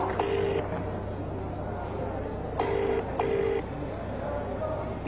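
A phone being dialed to call the police commissioner: a few short tone bursts in sequence over steady background hum, moderately loud and close.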